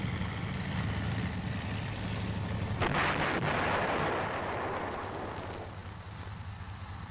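A large-calibre gun on an M551 Sheridan armored reconnaissance assault vehicle fires once, a loud sharp blast at close range followed by a long rumbling decay that fades over several seconds.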